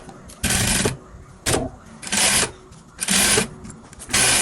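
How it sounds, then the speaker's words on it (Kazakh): A sewing machine runs a 1 cm seam on a velour evening dress in four bursts of even whirring stitching, each about a second long, with brief pauses between them and no talk. "Осы жерден мына жерге дейін 1 см тігіп шығамыз."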